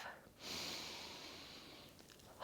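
A single deep, slow breath drawn in and released through the nose while settling into a full moon yoga practice, soft and close in a quiet room.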